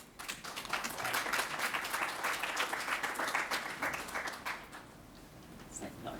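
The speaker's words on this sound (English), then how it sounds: "We're supposed to keep clapping, right?" An audience claps steadily for several seconds after a talk, at moderate volume with a dense even texture, then the clapping thins out toward the end.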